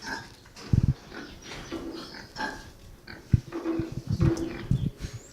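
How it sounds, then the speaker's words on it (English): Pigs at a hog farm exhibit during a citrus fair, grunting and squealing in short bursts scattered across steady crowd murmur, moderately close with no clear speech. "it looks like a pig farm. We've got pigs."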